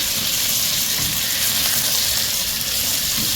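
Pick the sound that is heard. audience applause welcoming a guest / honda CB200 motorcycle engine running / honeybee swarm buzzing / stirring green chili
stirring green chili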